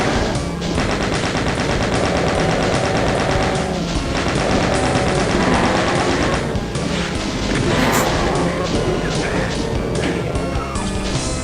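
Loud, continuous weapon fire and crashing impacts from the Doom game map Painframe in Going Down map06 fill the whole stretch, with dense rapid shots and explosions and no pauses.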